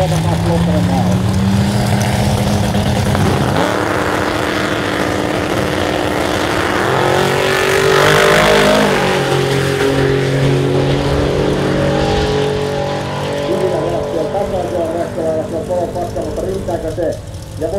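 Drag racing cars launching down the strip at the Kauhava drag race, a loud roaring engine sound that rises and sweeps in pitch as the cars accelerate away, with a commentator talking over it.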